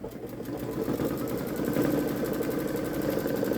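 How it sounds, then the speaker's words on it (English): A Babylock Solaris Vision embroidery machine stitches slowly, its needle tapping in a steady rapid rhythm over a low motor hum, close and moderately quiet. "I'm going to let it stitch slow for a minute just to see if it's going to do a tack down in this area."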